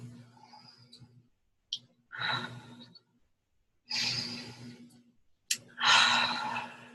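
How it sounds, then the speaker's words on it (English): Slow, deep breaths during a crystal meditation session: three long, soft inhales and exhales drawn close to the listener, separated by quiet pauses, with no talking. "Give a few breaths."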